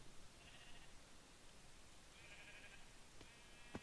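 Sheep in Minecraft bleating faintly a couple of times over a quiet, hissy game background, ending with a short sharp click.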